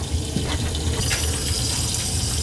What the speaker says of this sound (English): Nice hot water going down there,